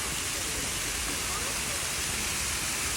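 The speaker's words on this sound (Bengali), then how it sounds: "খুব ছোট্ট সুন্দর ঝর্ণা বানাইছে" A small artificial waterfall at Purbachal Sea Shell Park gives off a steady, close broadband rush of falling water that stays even for the whole three seconds.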